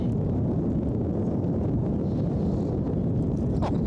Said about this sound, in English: Oh man, is it windy?